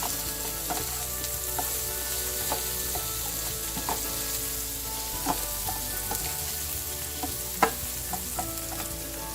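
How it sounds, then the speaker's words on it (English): Sliced onions and potatoes with turmeric fry in a pan, a continuous close sizzle broken by frequent spatula scrapes and stirring clicks. "Now cook this down for about 3-4 minutes till the onions are nice and browned"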